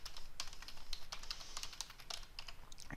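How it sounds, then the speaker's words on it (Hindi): A computer keyboard is typed on steadily during work on a Microsoft Word table, with crisp, close, rapid keystrokes including presses of the Tab key, and no speech. "कीबोर्ड से आपको टैब की दबानी है"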